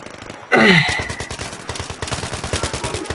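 Rapid gunfire from the video game Battlefield 3: a loud burst erupts suddenly, then a steady train of quick repeated shots continues to the end, with no talking.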